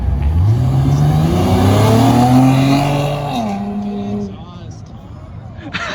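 A car's exhaust revs hard and loud at a car meet, climbing steadily in pitch for about three seconds before dropping off and settling into a lower idle.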